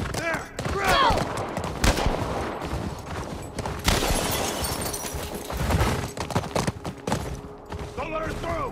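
Scattered gunshots during a tense fight at a lakeside resort in The Last of Us Part I, sharp cracks mixed with shouting voices, clattering and crunching impacts.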